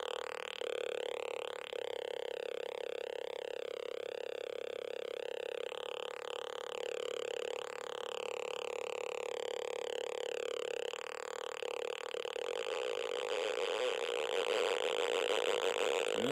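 Atari punk console synthesizer built around a small chip, producing a continuous buzzy, warbling electronic drone that wobbles and sweeps in pitch before shifting to a harsher, noisier texture near the end, steady and alone.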